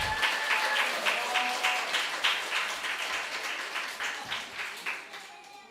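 A church congregation at a family worship service applauds to welcome a young speaker. Steady, moderately loud clapping from many hands fades gradually over several seconds.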